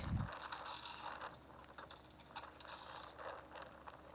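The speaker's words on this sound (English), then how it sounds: "Let's take out all those screws." Screws being taken out of the housing of a furnace inducer motor on a commercial HVAC job, heard as faint, scattered metallic clicks and ratcheting from a nearby tool over a steady background hum.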